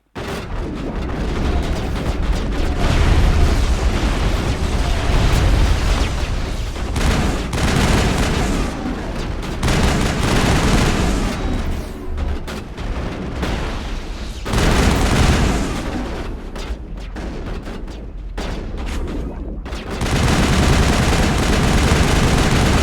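Sustained battle noise in the Mass Effect video game: dense rapid gunfire and booming explosions, loud and nearly continuous, with short lulls between volleys and no talking.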